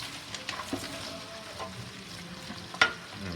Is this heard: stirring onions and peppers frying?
yes